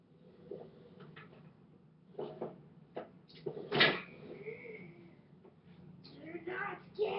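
A door is shut in a real-life staging of the horror game FNAF 4, giving a sharp thud among quieter knocks and handling noises, with a low room rumble throughout.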